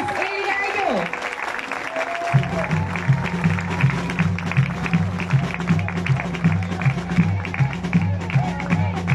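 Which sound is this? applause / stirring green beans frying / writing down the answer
applause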